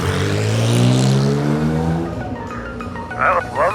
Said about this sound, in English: Ignition on. You can fire it.